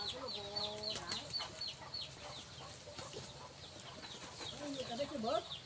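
Red junglefowl kept in a cage cluck in short, repeated bursts close by, mixed with other bird calls and someone speaking over them.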